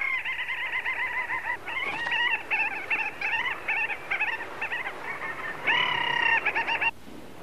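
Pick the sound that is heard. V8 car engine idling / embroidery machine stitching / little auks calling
little auks calling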